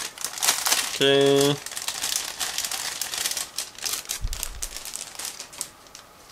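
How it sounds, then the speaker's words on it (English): Someone opens the plastic bag of a 1/35 scale model kit with rough crinkling and rustling of thin plastic, interrupted by a brief electronic tone and a short spoken word. "So here we are with first plastic bag. Just give me a second to open it."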